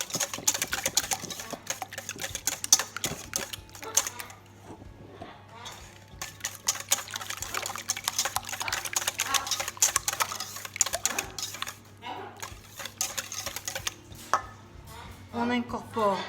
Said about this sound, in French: On va fouetter.